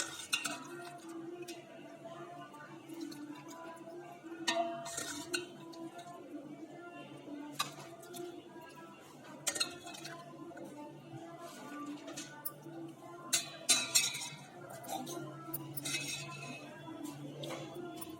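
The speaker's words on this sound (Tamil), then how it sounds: "இப்போ நம்ம ஒரு பவுலுக்கு மாத்திடலாம்." Pasta payasam being poured and scooped into a bowl, with steady clinks of a metal ladle and spoon against pots and dishes, close and moderately loud, scattered sharper taps throughout.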